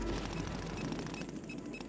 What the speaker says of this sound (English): I hear the gunshots over there